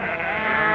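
One sheep gives a single loud, close bleat that is brief and wavering, with no talk over it.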